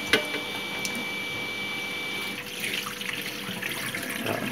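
Soaked sticky rice washed by hand in water, a continuous running, splashing wash with soft sloshing and a brief knock at the start, steady and fairly close.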